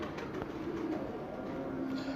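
Pigeons coo in a pigeon-keeping loft, low murmuring calls repeating steadily at close range beneath a constant background hum.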